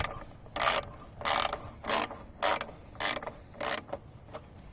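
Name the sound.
mini ratchet tightening bolts on Kohler engine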